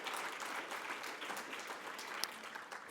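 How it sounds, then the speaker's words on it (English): Audience at a Toronto book awards ceremony giving a sustained round of applause, dense even clapping throughout with no talk over it. "Yes, we should give them a nice round of applause."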